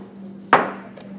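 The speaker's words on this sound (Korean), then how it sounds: "배를 넣고 색깔을 내기 위해서 고추를 가늘게 썰어서" A single crisp knife chop through chili pepper on a cutting board, one sharp close thud against a steady low hum.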